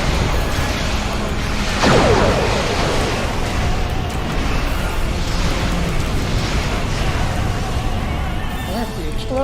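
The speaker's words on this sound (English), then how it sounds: "That's the explosion." A large explosion in the space combat game Star Trek Online, a loud sustained roaring blast with a rising burst near the start, rumbling on continuously for several seconds.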